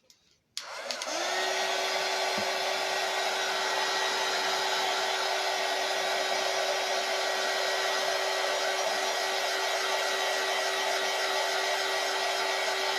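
A hair dryer switches on after a brief quiet moment, then runs in a loud, steady, close whir with a constant motor hum, blowing continuously to dry up small puddles, with no voices over it.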